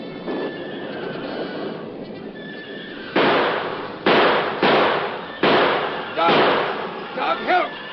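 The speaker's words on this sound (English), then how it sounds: "Maybe it's them Mexican ponies I hear kicking up a fuss." Wild horses in a corral for a radio drama, a rough ambient bed followed by several loud, sudden bursts of neighing and kicking, closely spaced in the second half, with faint talk underneath.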